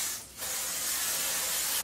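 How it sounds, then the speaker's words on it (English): Makeup setting spray misted onto a brush in a single sustained hiss of about one and a half seconds, close and steady, then cutting off abruptly; no talking. "I sprayed onto a brush."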